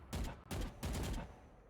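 Gunfire in Valorant, a competitive first-person shooter match, three quick bursts of rapid shots in close succession, fairly near and sharp, with no talk.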